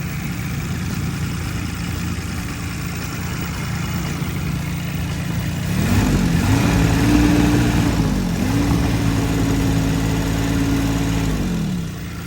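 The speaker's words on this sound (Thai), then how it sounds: "เครื่องยนต์คูเบต้านะครับดี 1105นะครับเป็นรหัสเครื่องของเจ้าตัวนี้นะครับ" A Kubota D1105 three-cylinder diesel idles on a Tadano AC-121-2 crane truck with a steady, close low drone, picking up a slightly louder tone with rising and falling pitch partway through.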